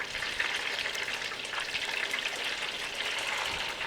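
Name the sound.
egg rolls deep frying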